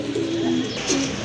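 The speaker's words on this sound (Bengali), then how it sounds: "এখানে কিন্তু দুই ব্রিডের দুইটা কবুতর আছে, খুবই সুন্দর" Domestic pigeons, including a Lahori breed bird, coo close by in a seller's loft, giving two low, drawn-out coos in quick succession over a faint background hum.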